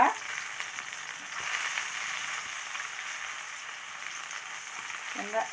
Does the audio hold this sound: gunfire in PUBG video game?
no